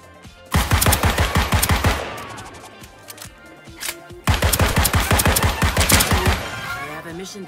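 Gunfire in the video game Deceive Inc, two loud bursts of rapid automatic shots separated by a short lull, close and punchy with a busy game soundscape underneath.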